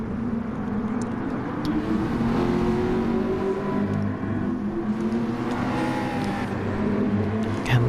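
A Ford GT3 race car in a sim racing game at Lago Maggiore, its engine droning steadily and loud from up close, the pitch rising and falling slightly as it holds speed through a sprint race.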